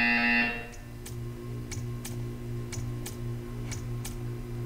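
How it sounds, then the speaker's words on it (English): A buzzer in the video game Portal 2 blares as a short, bright harmonic tone, then gives way to evenly spaced ticking over a steady electronic hum. "You will hear a buzzer."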